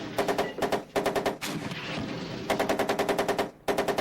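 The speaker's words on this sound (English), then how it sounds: "Let's fire with the bow MG." Bow machine gun fire from a tank in the computer wargame Armoured Commander II, heard as loud, rapid bursts of shots separated by short pauses, with a sustained rumbling burst in the middle and no talk.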